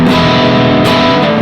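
A loud, sustained electric guitar chord through an EarthQuaker Devices Palisades overdrive pedal rings out thick with overdrive, gritty and saturated, with a brief change partway through.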